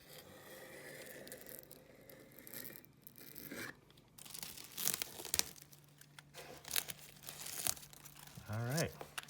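3M window insulating film crinkling and tearing as it is trimmed and pulled away from a window corner, a run of crisp crackles and rips at close range, with a person talking intermittently.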